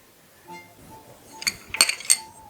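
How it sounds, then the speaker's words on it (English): Crystal wine glasses clink several times in short bright bursts as they are set on a table for an elegant vintage fall place setting, the sharpest contacts close together near the end. "Then we need some incredible, wonderful crystal wine glasses."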